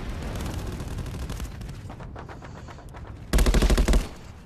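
Bursts of automatic gunfire in Black Ops 4 on the Summit map during a Domination match, a steady rattle of shots giving way to a louder, denser close-range volley near the end.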